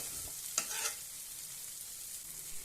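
Prawns stir-fried with poppy seed paste in a pan: one short scraping stir over a low, steady sizzle, with no voices.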